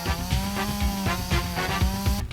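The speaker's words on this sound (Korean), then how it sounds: "전기톱과 전기복뱅이의 공격 속도가 너프되었습니다." A chainsaw attack in the survival video game Longvinter gives a steady, buzzing engine drone with rhythmic chopping pulses, loud and continuous until it cuts off abruptly at the end.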